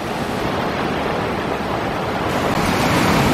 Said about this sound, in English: The rocks make noise as the waves roll out.